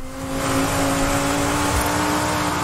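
An 8-litre Dodge Viper engine accelerating in Forza Horizon, a loud rising roar that builds quickly and holds a strong steady drone, with no voices over it.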